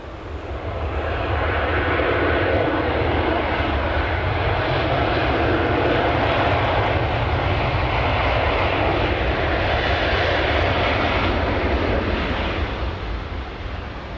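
An airliner's jet engines roar loudly and steadily during its takeoff roll from runway 16 at Sydney Airport, a broad sustained rumble that swells in and holds for the whole stretch before easing slightly near the end.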